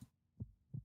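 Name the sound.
heavy heartbeat sound effect in video game Punishing: Gray Raven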